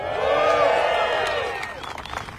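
A large crowd of plant workers cheers, whoops and applauds loudly at a factory speech event, the roar swelling then fading into scattered claps and shouts.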